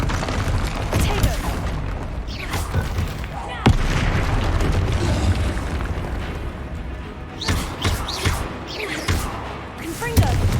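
Repeated fiery blasts from Confringo spells in Hogwarts Legacy, booming bursts landing one after another over a dense wash of game combat noise, with a player calling out spell names throughout.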